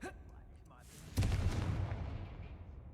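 A Confringo spell explodes in Hogwarts Legacy: a sudden loud, broad blast about a second in, followed by a rumbling roar that slowly fades, with no talking over it.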